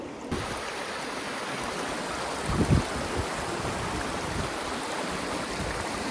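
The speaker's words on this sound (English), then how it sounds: "you can see it's quite a lot of strong rapids here" Strong river rapids at Kirkconnell Creek, New South Wales: a dense, steady rushing roar of water filling the whole clip, with a brief louder surge midway and no talk.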